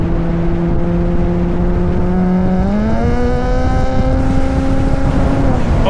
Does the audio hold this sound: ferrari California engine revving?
yes